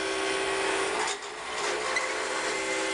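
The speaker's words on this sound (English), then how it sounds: "This is the jet drill press." A Jet drill press bores into an acrylic blank, with a vacuum running alongside. It makes a continuous close grinding whine that dips briefly near the middle and then resumes steadily.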